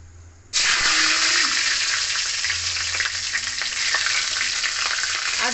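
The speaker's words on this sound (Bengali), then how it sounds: "ওই তেলের মধ্যে আমি দিয়ে দিলাম এখানে শুকনো লঙ্কা, দেবো এখানে তেজপাতা, আর দেবো কাঁচা লঙ্কা কুচি" Dried red chillies, bay leaves and chopped green chillies hit hot oil in a pan with a sudden loud sizzle that keeps crackling and spitting steadily from start to end.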